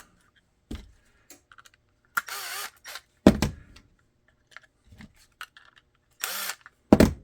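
Cordless power drill driving screws into a handgun holster for a Smith & Wesson Bodyguard 2.0, heard as several short, loud whirring bursts separated by gaps and small clicks.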